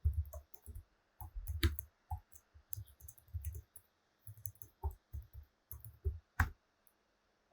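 Typing a terminal command on a computer keyboard, a quiet close run of quick key clicks in irregular bursts with short pauses, no talking.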